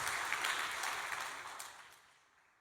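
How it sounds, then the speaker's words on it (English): Congregation at a church gathering gives a round of applause of encouragement, a moderate patter of many hands that steadily fades out toward silence. "Why don't we give a big round of applause of encouragement to those two people who shared their testimony today."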